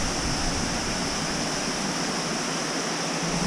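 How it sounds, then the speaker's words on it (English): A waterfall roars in a constant, broad rush of falling water, steady and close, with nothing else audible. "we just arrived to the waterfalls"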